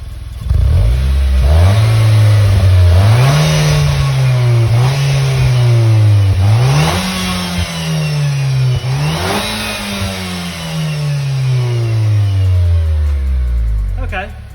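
A Nissan Juke Nismo RS fitted with a two-tip exhaust, in S mode, revs repeatedly in loud rising and falling sweeps, about five throttle blips over a steady engine drone, close to the microphone.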